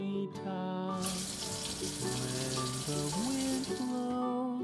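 A toy faucet in a Little People pretend-play house runs for hand washing, a steady hiss of water-like noise under a bright electronic toy melody that plays throughout.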